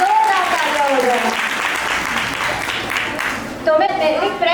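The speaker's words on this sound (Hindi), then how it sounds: "तो इसी के साथ जोरदार तालियां हो जाए।" Loud, sustained applause from an audience at the Sciefiasta 2.0 event fills the room, with a voice speaking over it at the start and again as it fades.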